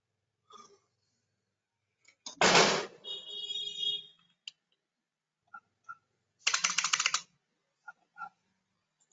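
Keystrokes on a computer keyboard while a VBA macro is being written, two dense bursts of rapid typing with scattered single clicks between, close and fairly loud.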